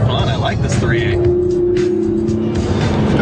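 A 2013 Hyundai Genesis Coupe with the 3.8 engine driven hard, its engine drone steady and loud throughout with a sustained tonal whine, while someone talks over it.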